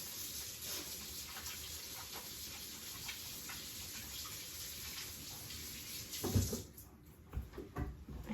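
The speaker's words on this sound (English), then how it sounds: "I'm gonna wash my hands" A kitchen tap runs steadily into a sink while hands are washed, a constant close hiss with small splashes, then the flow cuts off near the end, leaving a few drips and handling noises.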